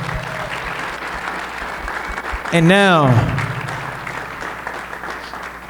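At a sports hall of fame ceremony, the audience applauds an honoree with continuous clapping throughout. A speaker's voice breaks in briefly partway through.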